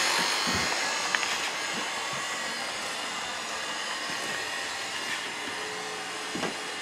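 A Class 47 model train running noisily, a steady high-pitched electric motor whine with a rough buzzing edge, continuous and close with faint clicks.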